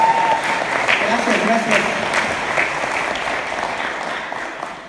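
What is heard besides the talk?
church congregation applauding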